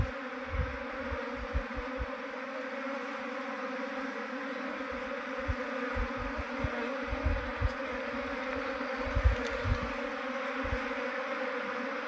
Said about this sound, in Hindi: देखो जितनी मधुमक्खी है ये सारी बैठी ही रही है, उड़ने के लिए कोई नहीं उड़ रही।